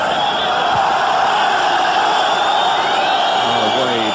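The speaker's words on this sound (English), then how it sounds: "a wave going around the ground" A large football crowd in a stadium, France against England in 1997, roars steadily as a wave travels around the ground, a dense continuous swell of cheering that keeps going throughout.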